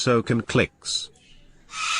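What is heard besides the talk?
cockatoo calling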